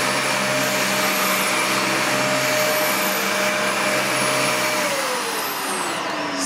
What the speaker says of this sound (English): Right now my vacuum runs perfectly on this carpet.